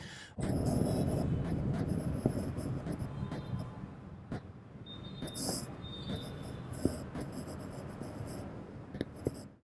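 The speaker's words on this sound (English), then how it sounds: "Different pen tips generate different haptic responses, which already sound impressive." Close, soft scratchy strokes of a stylus tip sliding across a Lenovo Yoga Tab tablet screen, with brief pauses and small taps between strokes.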